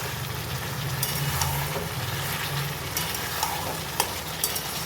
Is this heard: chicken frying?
yes